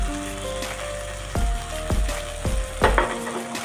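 Tomato and onion masala with salt, chilli powder and turmeric sizzling in a pan, stirred with a spoon that scrapes and clacks against the metal in several distinct strokes over the steady frying hiss.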